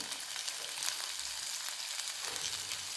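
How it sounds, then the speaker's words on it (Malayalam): Chopped tomato and thinly sliced green chili sauté in a hot pan for an egg masala, giving a steady, close, bright sizzle that runs unbroken from start to finish, with a faint crackle throughout. "ഇവ ചേർത്ത് വീണ്ടും ഇതിൻ്റെയൊക്കെ മൂപ്പ് പോകുന്നത് വരെ വീണ്ടും വഴറ്റുക"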